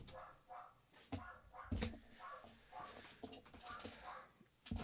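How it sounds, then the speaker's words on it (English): A dog barking from upstairs in a house, muffled and somewhat distant, in repeated uneven bursts with a few thumps in between. "my dog's going crazy up there"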